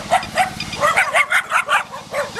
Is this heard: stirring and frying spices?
no